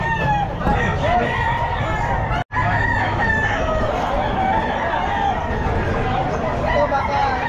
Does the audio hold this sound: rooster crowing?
yes